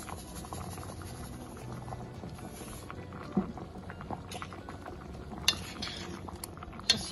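Yucca root pieces boiling in a pot of water, a steady low bubbling and simmer with a few sharp clinks of a spoon or utensil against the pot near the end.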